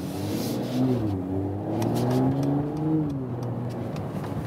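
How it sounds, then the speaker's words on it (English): An Audi, BMW, Mercedes or Volvo premium estate car's engine idles and burbles steadily in comfort mode with a low, throaty exhaust note, rising slightly in pitch now and then, close by with no talking. "That is comfort mode, but you already hear some exhaust note, of course."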